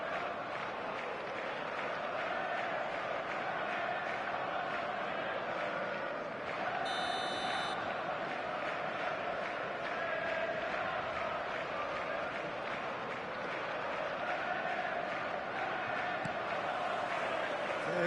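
A large stadium crowd in a PS4 football video game keeps up a steady, dense roar and chant throughout, broad and sustained, while a commentator's voice talks over it.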